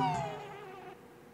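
A thin insect-like buzzing drone from bees in Banjo-Kazooie, fading gradually over a short moment, heard alone without talk.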